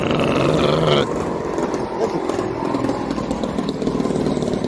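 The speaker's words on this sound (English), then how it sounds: "I'm glad someone's riding down the street on their loud-ass motorcycle." A loud motorcycle rides down the street, its engine roaring and growling steadily nearby, the sound holding strong for several seconds.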